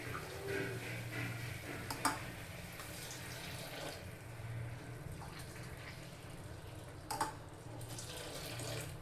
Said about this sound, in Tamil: பால் புலாவுக்கு நான் பால் காய்ச்சி வச்சுருக்கேங்க. அதில் நான் 3 டம்ளர் ஆட் பண்ணிக்கிறேன்.